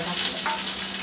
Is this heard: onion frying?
yes